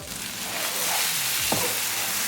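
Eggplant and taro root sabzi cooks in a pan over medium heat, giving off a soft, constant hiss of sizzling with a faint knock partway through.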